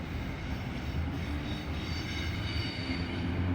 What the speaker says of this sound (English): passing through now is another freight train.